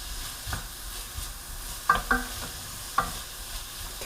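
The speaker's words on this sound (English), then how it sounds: "So first we're going to sweat these vegetables until the onions become, or start to become," Chopped vegetables and onions sweat in a soup pot, giving a constant soft sizzle broken by a handful of scraping stirs of a utensil against the pot.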